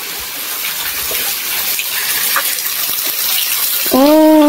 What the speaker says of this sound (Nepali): अहिले चाहिँ झर्ना चाहिँ यतिको छ है